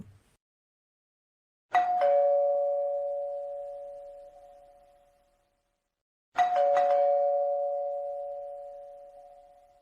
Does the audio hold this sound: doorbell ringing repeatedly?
yes